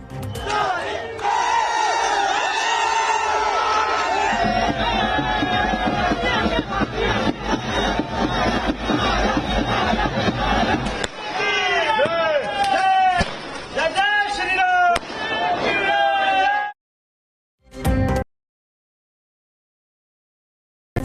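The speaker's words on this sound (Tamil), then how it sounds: "சாலைகளில் திரண்டு பட்டாசு வெடித்து உற்சாகம்" A large crowd roars and chants loudly and without pause on the streets, celebrating India's cricket win over Pakistan, with a burst of sharp cracking firecracker pops near the end before everything cuts out.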